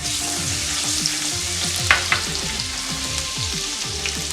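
Garlic hits a hot pan and fries with a loud, continuous sizzle, a couple of sharp utensil clinks standing out partway through.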